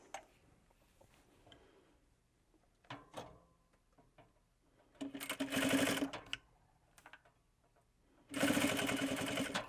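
An industrial sewing machine stitching a sling, two loud whirring bursts of fast stitching with fabric shuffling and mechanical clicks between them, close up.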